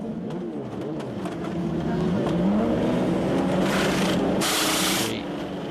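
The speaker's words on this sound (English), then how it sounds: "A queue of cars all come into the pits." Formula Renault race cars queue into the pit lane at a circuit, engines droning and rising together under steady broadband pit noise, with bursts of hissing air-tool or spray-like noise near the end and a commentator speaking over it.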